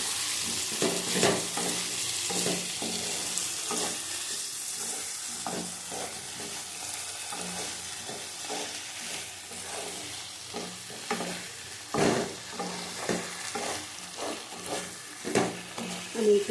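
Potatoes stir-frying with spices in a pan for aloo dum, a continuous sizzle broken by repeated scraping and clanking of a spatula, close and fairly loud, growing busier toward the end, with no voices.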